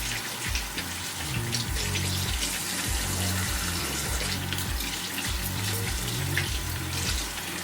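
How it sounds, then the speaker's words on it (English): A makeup brush is rinsed under a running tap, water splashing steadily and close, with a faint repeating low rhythmic pattern beneath the flow. "I'm gonna run this under water"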